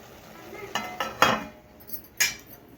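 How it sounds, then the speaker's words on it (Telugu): A few sharp clinks and scrapes of metal utensils against dishes being scrubbed, scattered and close, over a quiet background with no talking. "ఈ గిన్నెలన్నీ తోమాలి"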